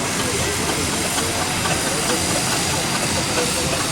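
A loud, steady hiss of escaping steam fills the air without a break from a nearby agricultural steam traction engine with a side winch, at a rally.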